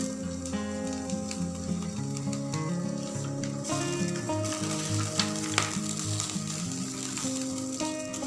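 Chicken feet simmer in a covered pot with a little salt, giving a steady, close bubbling sizzle that runs unbroken for the whole stretch, with no voices.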